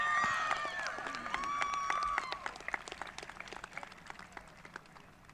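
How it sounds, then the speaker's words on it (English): An audience at a high school graduation ceremony applauding, with a burst of clapping and whooping cheers that starts loud and thins to scattered claps as it fades. "Let's have a nice round of applause for Haley coming up here."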